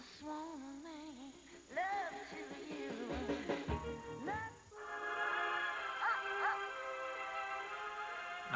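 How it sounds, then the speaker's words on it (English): A dog barks, yips and whimpers in a series of rising, whiny calls, close and fairly clear, with a television broadcast soundtrack underneath. "Now that's a dog."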